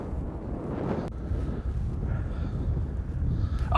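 Strong wind blowing across an open field during bird hunting, a rough, gusty roar buffeting the microphone with a couple of sharp knocks, building louder toward the end, no talk.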